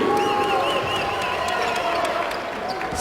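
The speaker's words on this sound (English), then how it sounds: "Crowd getting into it a little bit here." A small basketball arena crowd cheers and murmurs after a three-pointer, steady and moderately loud, with a commentator talking over it and squeaky sneakers audible.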